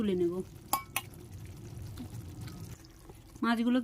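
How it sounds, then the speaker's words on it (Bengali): Katla fish pieces in a yogurt curry are lifted from the pan into a bowl. Two light utensil clinks and soft scraping sit between stretches of someone talking. "আমি মাছগুলোকে একটা বাটিতে তুলে নেব"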